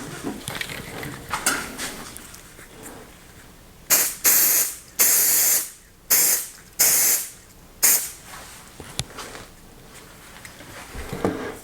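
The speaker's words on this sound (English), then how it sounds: "the release agent is to keep this silicone from sticking to this silicone" Mold release agent sprayed onto a silicone mold in a series of about six sharp aerosol hisses, each roughly half a second, close and loud, following quieter handling noises.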